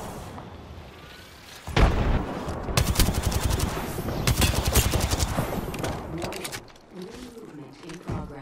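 Sustained SMG bursts in a first-person shooter game rattle loudly and rapidly over several seconds, with game voices and player talk mixed in around the gunfire.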